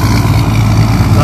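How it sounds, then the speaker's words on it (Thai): A K13 360-horsepower engine on a 2021 soil tilling machine rumbles loudly and steadily at close range in a low, continuous drone, with someone speaking over it. "เครื่องยนต์ K13 360แรงม้าครับ ของเฮียตุยครับ"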